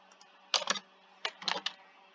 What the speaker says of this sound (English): It's easy to type on the numpad.